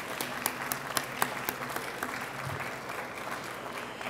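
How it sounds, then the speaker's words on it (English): A crowd at an animal survivors awards event applauding the sponsors, with a few sharp claps up front swelling into steady, fairly distant applause from a sizable audience. "So give them a round of applause, please."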